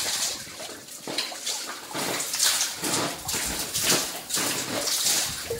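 A submersible well pump lifted from a 17 m deep well pours water back into a barrel, producing a steady, loud splashing gush that continues without a break and with no talk over it.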